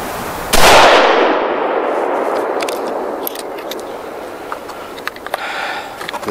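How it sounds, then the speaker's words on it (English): Single loud, close rifle shot from a HEYM-built Ruger No 1 fired from a shooting rest, a sharp crack at the start followed by a long decaying echo, with faint small clicks and handling noises afterward. "So let's shoot three more just to verify."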